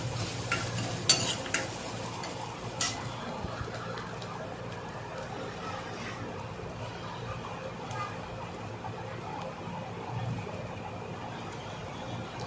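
Onions sautéing in a pan for a besan dish, a soft continuous sizzle with occasional stirring scrapes and clinks, heard close under a person talking.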